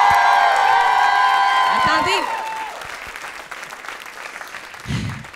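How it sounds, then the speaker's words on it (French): Audience applause and cheering at a live French-language comedy podcast taping in Québec, a loud sustained crowd roar that fades over a few seconds while a voice speaks briefly at the end. "tout le monde applaudit"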